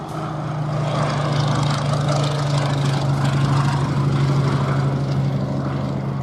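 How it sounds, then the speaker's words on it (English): Fairey Swordfish biplane with its nine-cylinder, 750 horsepower supercharged Bristol Pegasus radial engine making a final pass at the Duxford air festival: a steady, loud, droning engine note that holds throughout. "that very sweet, harmonious sound of the 9-cylinder, 750 horsepower supercharged Bristol Pegasus radial engine"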